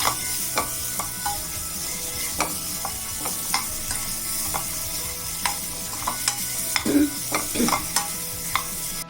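Scored boiled eggs fry gently over a low flame, a steady soft sizzle under regular scraping stirs and occasional clinks, close and continuous with no talk.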